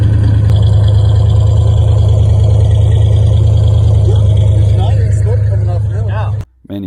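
A Cadillac 472 V8 engine, hot-wired and fed from a boat tank, idles steadily and loudly with a deep low rumble, overlapping faint background voices, then cuts off abruptly near the end.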